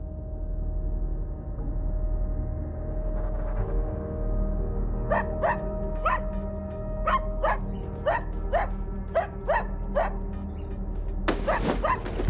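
A dog barks in a quick series of about ten sharp yaps over a low steady hum, followed by a louder burst at the end.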